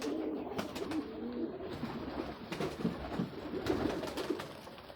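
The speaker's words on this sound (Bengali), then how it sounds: "এখানে 50-51 জোড়া কবুতর রয়েছে" Pigeons coo in soft, overlapping murmurs at a pigeon loft of about fifty pairs, several birds close by, with a steady low rumble of cooing running throughout.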